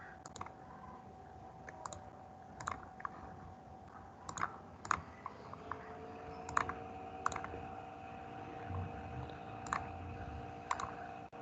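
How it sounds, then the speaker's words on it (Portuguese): Computer mouse clicks tick sharply and irregularly, some in quick pairs, faint over a steady electronic hum, with no voices. "Olha a quantidade de cliques."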